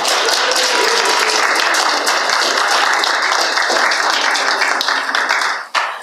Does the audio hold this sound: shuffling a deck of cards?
no